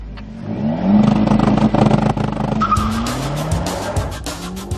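A Renault Clio RS 200 EDC is driven hard on a race circuit, its engine revving and gear shifts rising and falling loudly, with tires squealing through corners.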